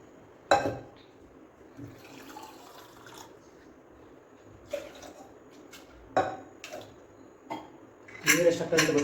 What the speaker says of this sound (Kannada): ನೀರು ಎಷ್ಟು ಆಗ್ತದೆ ಅಂತ ಗೊತ್ತಿಲ್ಲ, ಸುಮ್ಮನೆ ಹಾಕ್ತಾಯಿದ್ದೀನಿ.